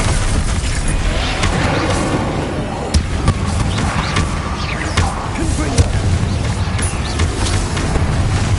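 Repeated Confringo blasting-curse explosions and booming spell impacts in a Hogwarts Legacy fight against Inferi in the Great Room, dense and continuous with thuds throughout, loud and close.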